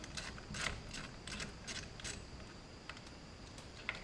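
A 1/4-inch headed screw being loosened on an HEI ignition module of a 305 small-block Chevy in a 1978 C10: faint, quick ratcheting clicks in short bursts, close by and quiet, with no talk.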